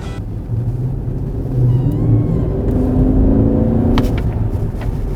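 A 5.0-litre V8 in an Infiniti FX50 pulls hard under acceleration, a deep continuous engine roar that swells and climbs in pitch, heard close and loud without speech.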